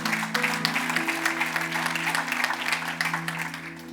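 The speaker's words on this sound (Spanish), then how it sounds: "Denle ese aplauso fuerte a Cristo" A church congregation applauding during a Spanish-language sermon, dense continuous clapping from many hands that fills the room, with a sustained tonal musical hum underneath.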